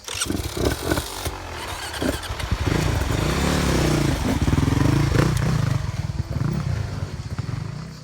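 An enduro motorcycle revs on an off-road trail, starting with a few short sputtering bursts and then rising into a loud, sustained rasping engine drone with shifting pitch close by.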